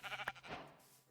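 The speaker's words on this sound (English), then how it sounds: "there's a sheep here, so I can get some wool." A single sheep bleats in the Minecraft video game, one short, faint, wavering call heard alone.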